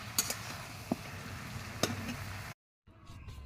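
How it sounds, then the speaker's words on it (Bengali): Eggplant sautéing in a pan for a fish curry gives a steady close sizzle with a few sharp stirring clinks, then drops out briefly before a quieter hiss returns. "এর মধ্যে বেগুনগুলো দিয়ে দেবো, এবার সুন্দরভাবে কষিয়ে নেব।"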